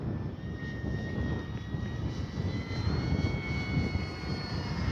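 A Kavan Pilatus PC-6 Porter radio-controlled scale model plane takes off, its engine droning steadily with a rising whine over wind rumble, loud and close.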